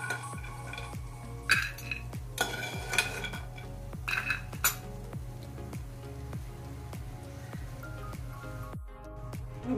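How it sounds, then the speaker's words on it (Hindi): Fried adauri (sun-dried lentil badi) being scooped from a pan into a pot, giving repeated clinks and scrapes of metal utensils against cookware over a steady frying sizzle, close and continuous. "अब इसे हम किसी बर्तन में निकाल लेंगे।"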